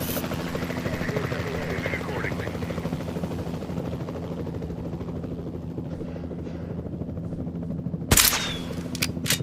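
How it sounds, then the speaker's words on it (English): Capture team helicopter in Jurassic World Evolution 2 drones steadily throughout with a rapid rotor chop, joined by a sharp dart-gun shot near the end, under game sound effects and voices. "the sensible thing is to take a capture team helicopter"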